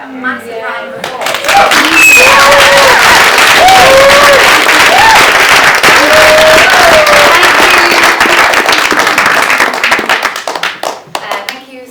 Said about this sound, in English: a massive round of applause